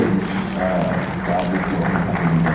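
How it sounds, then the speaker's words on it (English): Audience at a panel session breaking into applause, sustained clapping from a crowd with a voice speaking over it. "Please round of applause for George."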